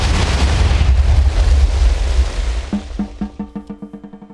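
A loud, close explosion in Minecraft booms out as a broad roar, then fades into a rapid series of short, pulsing bursts.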